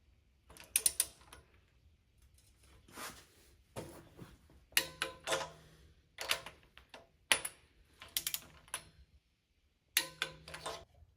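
Torque wrench tightening the cylinder head bolts on a small-block Chevy 385 stroker, with cast iron or aluminum heads. Several separate bursts of mechanical ratcheting and clicking, close and fairly quiet, with short pauses between each bolt.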